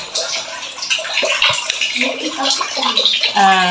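Tap water runs steadily as a container is filled for doing laundry at home, a close, splashing rush that continues throughout and grows fuller near the end.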